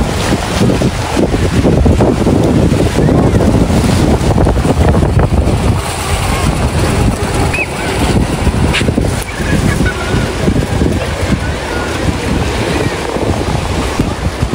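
An approaching boat's engine drones over loud wind gusts and splashing surf at a fish port in Infanta, Quezon, holding steady for the whole stretch.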